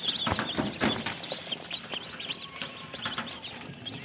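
Tiger chicken chicks and other young fowl chirp and cluck continuously at a poultry seller's in Jamalpur, a busy overlapping chorus of small peeps at close range with no talking.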